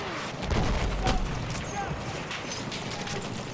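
Gunfire in Battlefield 1 crackles through a busy battlefield mix, with a few sharper shots standing out against a constant rumble of distant fire and a low boom near the start.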